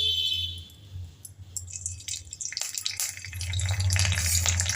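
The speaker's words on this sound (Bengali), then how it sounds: "অল্প একটু সর্ষে ফোড়ন দিয়ে দিলাম, আর সাথে দিয়ে দিলাম কারি পাতাটাও" Mustard seeds and curry leaves drop into hot oil for a homemade dhokla tempering, bursting into a loud, building crackle and hiss that grows denser toward the end, close by with no talking.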